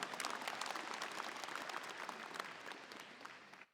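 An audience applauding at a REDMAGIC 10 Pro phone launch keynote, a dense burst of clapping from many hands that holds steady, thins slightly and then cuts off.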